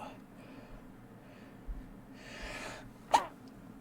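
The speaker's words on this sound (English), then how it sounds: "I was sneezing." A single sharp, close sneeze bursts out near the end of a quiet indoor ASMR session, following a few seconds of soft breathy room noise.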